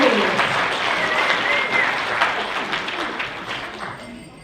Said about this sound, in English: Round of applause for Opie here